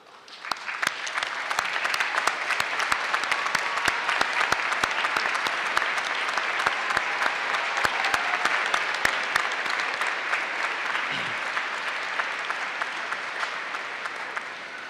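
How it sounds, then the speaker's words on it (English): A large commencement audience at West Liberty University applauds standing parents, guardians and spouses, a full, steady roar of clapping from many hands that holds for the whole stretch and eases slightly at the close. "Will the parents, guardians, and spouses of today's graduates please stand as we applaud your efforts"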